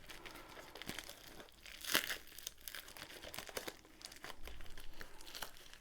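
Packaging around a Diamond Dotz diamond painting kit is cut open and handled, giving soft close crinkling and rustling with a sharper crackle near the middle, fairly quiet and without speech.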